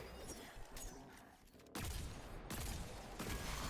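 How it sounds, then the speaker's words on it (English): Heavy solar sniper rifle shots in Destiny 2, loud booming blasts landing over a dense wash of battle noise, two strong reports about a second apart. "we're going to break the void shield on the servitor with the solar sniper"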